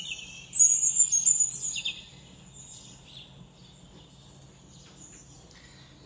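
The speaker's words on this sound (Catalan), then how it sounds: "Ara mateix canta un pit-roig, sentiu?" Clear, high European robin song phrases ring out briefly near the start, then quieter chirps continue faintly over a soft background hum, heard from a rooftop terrace.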